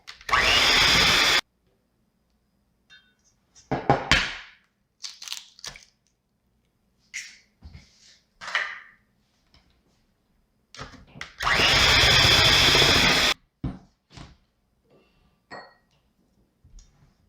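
Electric mixer beating eggs, added one at a time, into marble pound cake batter: two loud steady whirring bursts of a couple of seconds each, separated by quieter clinks and kitchen handling noises.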